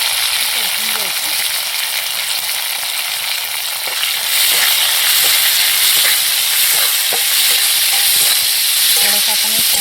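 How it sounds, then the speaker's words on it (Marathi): Chopped onion and spring onion sauté in a hot pan for baingan bharta. A steady, loud sizzle hisses throughout, punctuated by faint clicks of stirring and growing slightly stronger partway through. "कांदा आणि कांद्याचं पात सगळं आपल्याला घालायचं ह्यामध्ये. आणि चांगलं आपल्याला परतून घ्यायचं."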